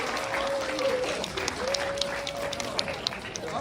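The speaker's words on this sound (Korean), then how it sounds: "우리 뜨거운 박수로 우리 김하은 사역자님 박수로 맞아주시기 바랍니다" An audience at a church vision concert applauds to welcome a performer, a steady, dense wash of clapping heard from within the crowd at a moderate level, with a faint voice and a sustained tone underneath.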